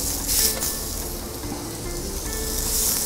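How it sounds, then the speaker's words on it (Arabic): Steady, close sizzling of stuffed meat slices, rolled with mozzarella and vegetable filling, laid seam-side down on a hot grill pan, a continuous hiss with no talking. "هنقلهم اشويهم. الشوايه عنده سخنه، هنزل على الجنب اللي مقفول من تحت."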